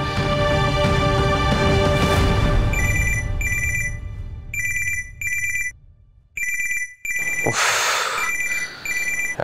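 A telephone ringtone rings late at night in a drama scene, a loud electronic melody repeating in short bursts with brief gaps between them.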